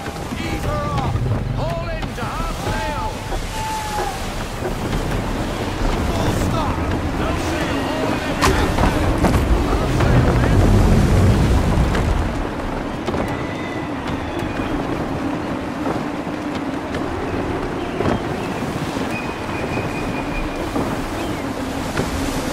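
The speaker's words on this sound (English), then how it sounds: "Wind looks to be shifting. Stay alert, Connor. Gusty winds can be difficult to manage." Gusty wind and open sea in the naval gameplay of Assassin's Creed III Remastered, steady rushing wind over waves with creaking ship sounds, under a spoken voice throughout.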